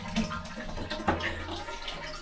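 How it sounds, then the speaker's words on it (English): A toilet flushing aboard a historic ship: a short rush and gurgle of water rising to a surge near the middle, then draining, heard close and alone. "Oh, that's how you flush it."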